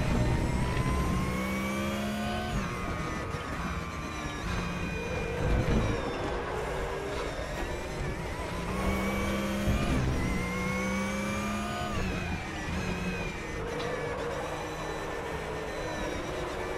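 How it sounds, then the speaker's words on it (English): A Porsche Cup race car drives a track in the RaceRoom racing game, its engine note climbing and dropping steadily through upshifts and downshifts as it speeds through corners, loud and continuous. "There's a car exiting the pits."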